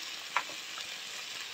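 Chana frying in a pan with turmeric as it is stirred, a soft steady sizzle with one brief scrape of the spoon, faint and close, with no talking.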